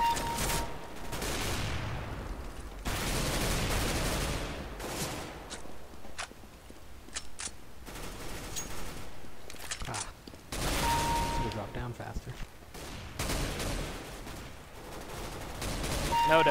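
Gunfire in the shooter game CS:GO, with several sharp bursts and single shots at irregular intervals, plus footsteps and game effects between them, under a player's speech.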